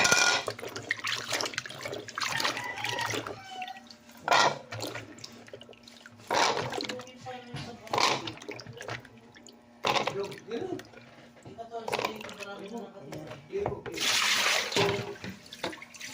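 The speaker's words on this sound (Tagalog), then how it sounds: "hugasan na natin yung ating kamote" Peeled sweet potatoes being washed by hand in a basin of water, with repeated bursts of splashing and sloshing between quieter dripping pauses, and a person talking in places.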